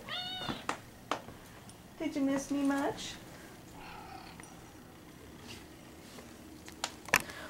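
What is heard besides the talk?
cat meowing and purring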